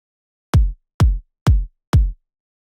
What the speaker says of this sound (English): Next up is a pretty standard progressive kick which sounds like this.